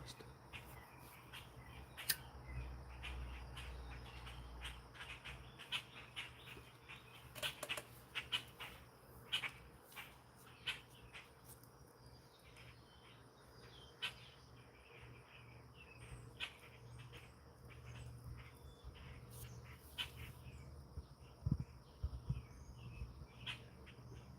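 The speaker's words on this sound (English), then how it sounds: "Listen to them birds right there." Faint outdoor ambience with scattered high chirps and short bird calls over steady insect buzz and low background hum, no talking.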